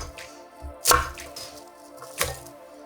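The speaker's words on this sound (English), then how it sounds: "we can just chop this into manageable sized pieces" A knife chops pot roast ingredients into pieces on a board, giving two sharp, close thuds about a second apart between quieter taps and handling noise.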